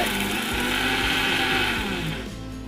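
A kitchen mixer grinder runs steadily, loud and close, as cardamom and other ingredients are ground to a powder for somas, a whirring drone that eases off slightly near the end.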